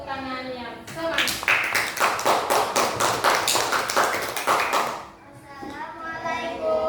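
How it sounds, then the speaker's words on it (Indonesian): Enthusiastic applause from a classroom of students fills several seconds with dense, rapid clapping, with a voice speaking just before and again after it fades. "beri tepuk tangan yang semangat"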